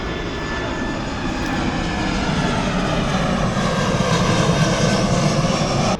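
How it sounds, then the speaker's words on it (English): A plane flies over a quiet residential neighborhood, a loud steady engine roar that swells slightly and holds throughout, with no other sounds standing out. "This is a quiet neighborhood, except for the planes flying over."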